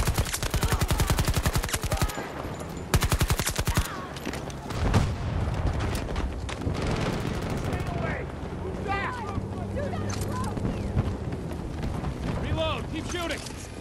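Rapid automatic gunfire in a multiplayer shooter video game, loud bursts in the opening seconds, then intermittent shots and distant firing under a player's voice talking over the game audio.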